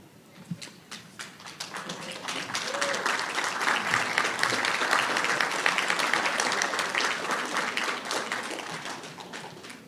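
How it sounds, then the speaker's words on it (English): Applause for family members at an aviation graduation ceremony, a large crowd clapping steadily and building to a sustained, dense roar of claps across the hall before easing slightly, with faint voices underneath. "give them a round of applause for walking this path with you"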